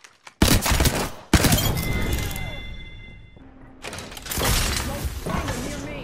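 Gunfire in Apex Legends comes as loud bursts of rapid shots with hard onsets, separated by short lulls and mechanical clatter, and picks up again near the end, with voices mixed in among the shooting.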